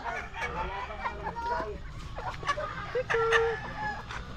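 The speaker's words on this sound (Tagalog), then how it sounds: "Maraming manok." Chickens clucking amid a noisy provincial farmyard, with scattered bird calls and a steady background murmur, moderately close.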